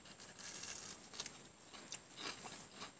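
Quiet, crisp crunching bites of fried mushrooms, a few distinct crackly snaps spread over a few seconds, close to the mic with no talking.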